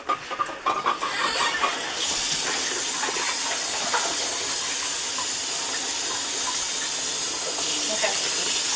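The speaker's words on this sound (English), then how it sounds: "We're going to empty all of the hot water out of here." Boiling hot water poured out of a pot into a kitchen sink, a steady rushing, hissing splash with steam that carries on evenly for several seconds.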